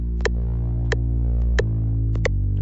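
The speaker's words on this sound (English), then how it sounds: "So this is where I created a sub bass or some sort. It's a synth," A synth sub bass loop gives a deep, steady, droning hum. A sharp metronome-like tick sounds at regular intervals over it, and no voice is heard.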